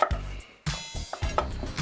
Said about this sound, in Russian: Картофель нам нужно нарезать на кубики.